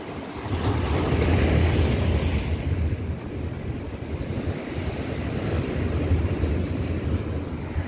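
Surf washing onto Kalim Beach in Phuket, Thailand on a sunny afternoon, a steady broad roar of waves with wind buffeting the microphone, continuous and fairly loud with no talk.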